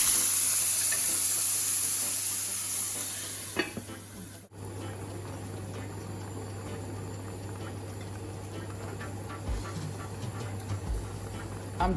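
Water is poured into a pot of seasoned pork for Jamaican brown stew, starting with a loud hissing rush that settles into steady, softer sizzling and bubbling, with occasional stirring clinks.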